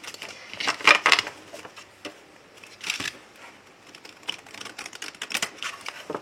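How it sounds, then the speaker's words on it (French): Rain falls outside on the south of an island, heard as an irregular crackling patter with scattered sharp close ticks and brief louder bursts over a soft steady hiss, with no voices. "le bruit que vous entendez, c'est le bruit de la pluie"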